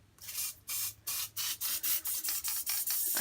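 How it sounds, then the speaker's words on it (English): Elmer's Craft Bond spray adhesive sprayed onto planner insert pages in a series of short hissing bursts, about nine in quick rhythm, close and fairly quiet with no talking. "This is Elmer's Craft Bond spray"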